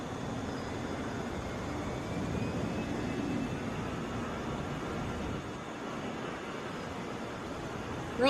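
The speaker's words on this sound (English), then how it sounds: "Rolling out Delta 2862 going to Oklahoma City. That's an Airbus A320." A 31-year-old Delta Airbus A320 rolls out at Atlanta International Airport, a broad steady roar of jet engine noise holding evenly throughout, distant and unbroken.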